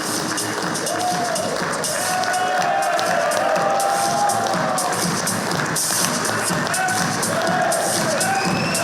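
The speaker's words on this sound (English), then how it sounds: "So clap it out and please show your love and appreciation towards our past presidents." Crowd clapping and cheering at a real-estate developers' association 25th foundation day event honouring past presidents, a dense, steady roar of applause and voices lasting throughout at close range.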